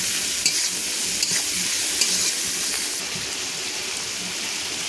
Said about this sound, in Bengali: তো এটা দিয়ে মশলাটার সাথে ভালো করে আমি নাড়াচাড়া করে মাখিয়ে নেব।